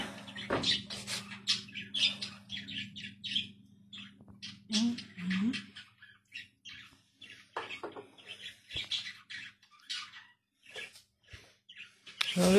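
Pet parrots kept indoors give scattered, faint squawks and chirps over a quiet background. The calls come in irregular short bursts with pauses between them.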